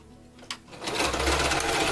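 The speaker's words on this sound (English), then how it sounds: "using a straight stitch, I'm just going to go around the 4 sides of the Velcro" A sewing machine running a straight stitch around the four sides of a Velcro strip on a Barbie doll garment, close up: a brief click at the start, then a steady loud whirring hum.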